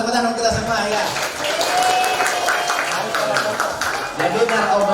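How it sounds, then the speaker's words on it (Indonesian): Applause from a crowd of students at an anti-drug awareness seminar in East Jakarta, with dense, steady clapping lasting several seconds while voices carry on over it. "Oke, kita tepuk tangan kita semua ya."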